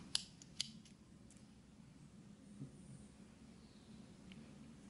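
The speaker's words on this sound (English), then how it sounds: "I'm ready to cut off my yarn" Scissors snipping crochet yarn: two crisp, close cuts near the start, then quiet handling sounds over a low steady room hum.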